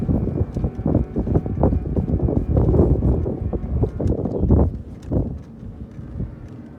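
Wind buffets the microphone during a trishaw ride in Portland, Weymouth, giving a loud, gusty rumble that rises and falls throughout, with faint rattles and knocks from the ride underneath.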